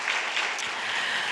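Applause from a church youth-service congregation, a steady dense wash of clapping holding evenly through the short stretch with no talk over it.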